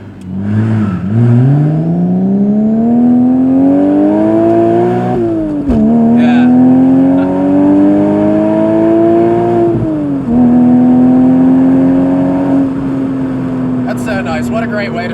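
A Porsche 986 Boxster's engine with a Fabspeed Supercup exhaust revs up repeatedly, heard from inside the car, pitch climbing then dropping with each gear change, sustained and close throughout.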